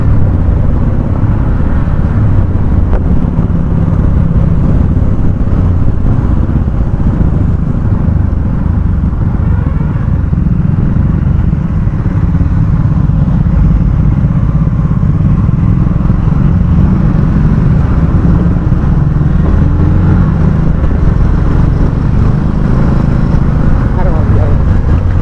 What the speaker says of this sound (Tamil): டிராஃபிக் கொஞ்சம் அதிகமாக தான் இருக்குது.